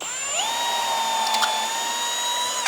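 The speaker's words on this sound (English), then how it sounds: "first thing I want to do is just drill down a pilot hole" A power drill whines steadily, its pitch rising as it spins up and then holding a high, continuous tone while boring a pilot hole into wood, close by.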